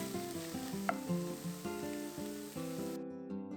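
Spicy squid stir-fries with green onions in a hot pan, a steady close sizzle with stirring scrapes under light background music that cuts off near the end.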